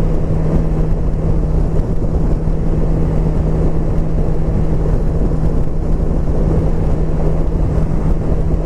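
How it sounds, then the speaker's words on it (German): Steady, loud wind buffeting roars over the low engine drone of a BMW S1000XR motorcycle throughout, with no let-up. "Oh, der Wind."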